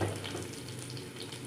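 A whole tomato drops into hot oil for a stuffed bitter gourd curry, an even crackling sizzle that holds steady for the whole brief moment, with no one talking.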